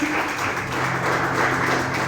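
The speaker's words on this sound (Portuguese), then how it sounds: "Aplauda o Senhor Jesus Cristo." A church congregation at a Friday apostolic service claps together in a brief burst of dense, sustained applause, loud and close, over a faint steady hum.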